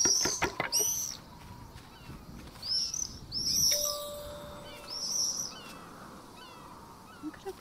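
Bird calls in Alba: A Wild Life Adventure, a few bright chirping phrases repeating at intervals over a soft ambient outdoor bed, with a faint steady tone drifting underneath.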